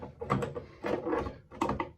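A plumbing socket is turned to loosen a leaky tub faucet stem, making three short bursts of creaking, ratcheting metal grinding, close and fairly quiet.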